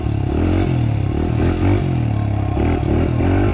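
Close, loud rumble of a Honda motorcycle engine held in the friction zone as the bike creeps forward, its revs rising and dipping slightly in a continuous throb with no voices.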